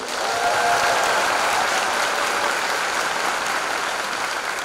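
Dense, steady applause from a choir concert audience honoring the accompanist, a full crowd clapping continuously and loudly throughout with no voices standing out.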